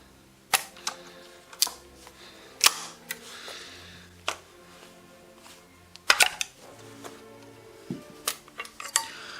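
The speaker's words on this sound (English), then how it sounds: "So we can just cock it ever so, like that, and then the gun will not fire" A Browning 525 shotgun is handled and cocked in a series of sharp, close metallic clicks and clacks, irregularly spaced, with a few quicker clustered snaps near the end and no talking.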